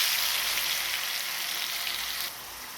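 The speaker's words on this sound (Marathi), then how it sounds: "आता आपल्याला हा मिक्सरला बारीक केलेला मसाला घालायचा आहे." A steady, bright sizzle of ground spice paste frying in hot oil, close and continuous, easing slightly near the end.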